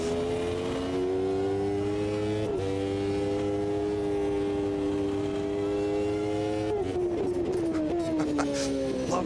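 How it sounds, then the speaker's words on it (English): V12 race car engines in the video game Automobilista 2 hold a steady, droning high note with brief pitch shifts around gear changes, loud and continuous with no voices. "That's a V12 in that one. You can just tell by the note of it."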